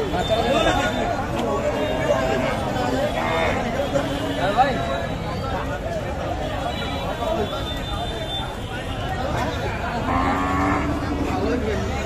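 Cattle moo repeatedly at a busy rural livestock market where cows and calves are sold, the lowing rising over constant crowd chatter and bargaining voices close by.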